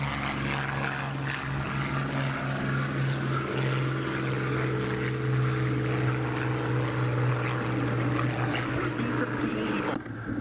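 The Boeing B-17 bomber Sally B flies at the Duxford airshow for the Battle of Britain 50th anniversary, its piston engines and propellers giving a steady, droning hum under a speaking voice.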